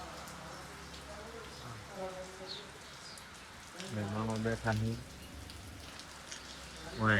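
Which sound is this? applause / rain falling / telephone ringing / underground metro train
rain falling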